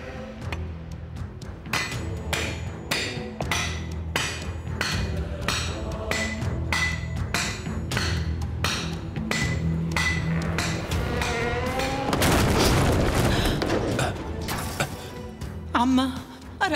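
Digging with a tool in a historical drama setting produces a long series of repeated sharp strikes, steady and rhythmic at first, then gives way to a noisy rush of sound, with voices heard alongside.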